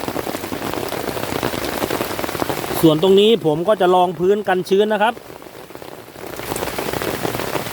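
Rain blows in at a jungle camp at night near the southern border, a steady close hiss of drops striking surfaces throughout, with someone speaking over it for a few seconds.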